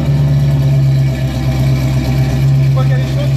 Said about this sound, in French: Parce qu'avec la cam, le ralenti à froid est moins stable en fait.